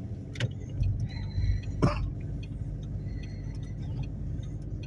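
A car drives along a road in steady low rumble, with a couple of brief sharp clicks or knocks rising above the engine drone partway through.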